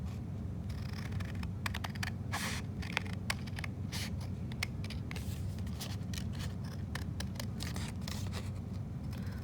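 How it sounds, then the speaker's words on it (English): Scissors snipping through paper along a traced line for a paper weaving template, a close, quiet series of irregular crisp cuts and rustles over a low background hum, with no talking. "I'm also cutting with the inside part of my scissors because I have more control."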